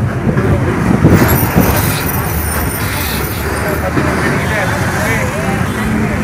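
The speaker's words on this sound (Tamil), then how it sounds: "நல்ல டிராஃபிக் இருக்குது." Busy mid-morning road traffic in Tirupur town heard from aboard a TNSTC bus, a dense continuous rumble of engines and passing vehicles close by, with a voice speaking over it.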